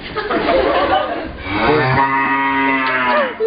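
A cow moos in a long, drawn-out low call, preceded by a busy mix of rustling and indistinct background noise.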